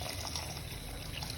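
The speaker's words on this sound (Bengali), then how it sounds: "পানি দিব" Water runs into a cooking pot of beef and potato curry as a soft, steady trickle and pour, faint and close by with no talk.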